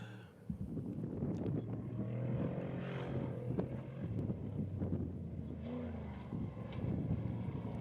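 Engine of the Ford ID Designs off-road race truck, car number 27, at the NORRA Baja race staging between Ensenada and San Felipe, a steady loud drone with harmonic tones and wind buffeting throughout.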